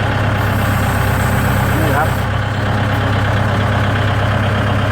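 A Kubota L5018 tractor fitted with a cassava-lifting attachment idles steadily, a loud close low rumble throughout, while someone talks over it.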